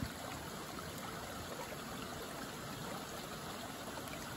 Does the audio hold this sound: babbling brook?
yes